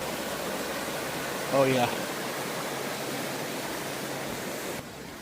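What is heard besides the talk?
creek water flowing at Smokemont campground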